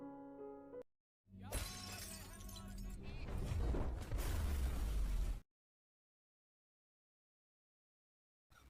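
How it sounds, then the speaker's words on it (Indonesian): A loud explosion bursts out, followed by several seconds of crackling, shattering debris and roaring noise that cuts off abruptly into silence. "Mendengar ledakan itu"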